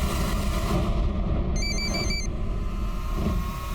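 An electronic phone ring chirps briefly, its beeping pattern cutting through a loud, rumbling, noisy background.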